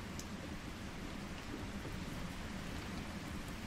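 Even, low rain hiss in the Black Forest video game, a steady faint wash of patter throughout with a small bump at the very end.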